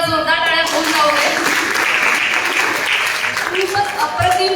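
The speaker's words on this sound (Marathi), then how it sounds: "या मुलांसाठी पुन्हा एकदा जोरदार टाळ्या होऊन जाऊ दे." A hall audience at a children's music performance applauds in a dense, sustained burst of clapping. A voice speaks before and after the applause.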